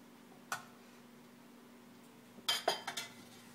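Sauce ladled out for a prawn curry pasta bake: a single light clink, a pause, then a short cluster of utensil knocks and clinks against a dish, close and fairly quiet over a faint steady hum.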